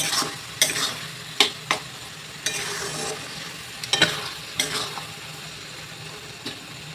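Grated coconut with jaggery being stirred in a wok, close scraping strokes with sharp clicks of the spatula against the metal over a soft constant sizzle. The strokes come at an uneven rhythm.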